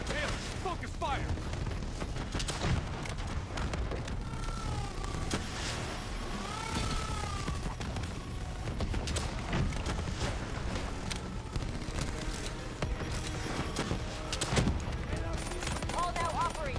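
Gunfire in Call of Duty: Black Ops 3, during the Demon Within campaign mission, crackles as repeated sharp bursts through a dense, continuous game soundscape, with voices talking over the action throughout.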